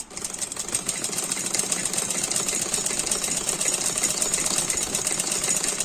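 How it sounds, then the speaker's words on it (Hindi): A sewing machine stitches the hem of a side-plate frock with a continuous, fast, rattling whirr that stays loud and close throughout, uninterrupted and without speech. "ये हम पूरे में ऐसे सिलाई कर देंगे।"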